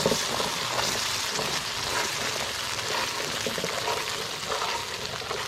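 Buro, an Ilocano fermented rice dish, stirred steadily in a pan as it cooks, giving a continuous close scraping sizzle with a soft bubbling wash and no pauses.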